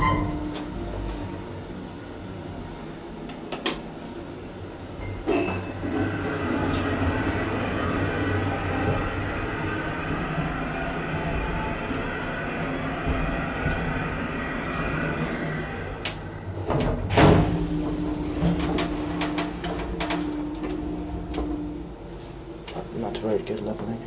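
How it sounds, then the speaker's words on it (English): Automatic doors of an old 1982 Geijer elevator, later modernized by KONE, slide and clunk in a hotel spa building. A low mechanical hum and rumble carry beneath scattered thumps, with a louder clatter near the end. "I wonder if this elevator had the automatic doors from the very beginning"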